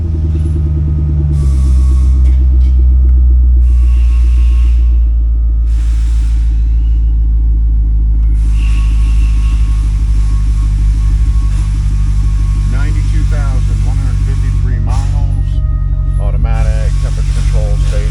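A 2005 Chevrolet Corvette C6 with an LS2 swap idles loudly at a wrecking yard, a deep steady rumble that fills the whole stretch while people talk over it.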